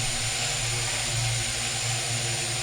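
A small training drone lifts off in altitude hold mode, its propellers giving a steady, loud, even whine and buzz that holds without a break, with no talk.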